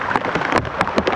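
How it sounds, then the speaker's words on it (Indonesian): Steady rain patters on surfaces along a flooded street in Cikunir, a close, dense hiss of drops with no talking. "gerimis-gerimis doang, tadi kan masih deres"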